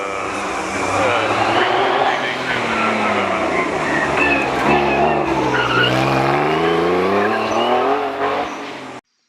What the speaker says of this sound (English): my pick was this Citroen powered by a Cleveland 351 V8. How good does it sound?